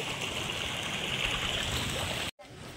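Cold spring water seeping from oak roots in a hill forest of oak, rhododendron and kafal runs in a steady, close, splashing trickle, cutting out briefly before resuming.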